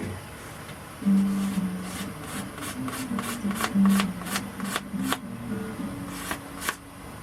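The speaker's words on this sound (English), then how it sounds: "I think I'm going to round the edge of this off just a little bit with a piece of fine sandpaper" Fine sandpaper rubbing the edge of a wooden Native American flute in the key of A, a run of close, rhythmic scratchy strokes repeating steadily over a low background hum.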